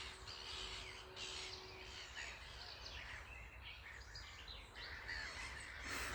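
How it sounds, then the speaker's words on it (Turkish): A flock of black-headed gulls lifts off all at once from a lake in Germany, a faint, distant mix of harsh calls and scattered wingbeats over steady outdoor wind noise, with no talking. "Gri Vulture Karabaş martıların üzerinden geçtiği için bütün hepsi aynı anda havaya kalktı."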